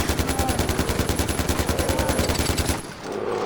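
Rapid bursts of automatic gunfire in Far Cry 4 in a steady rattling rhythm for a few seconds, then it stops abruptly, leaving a quieter background.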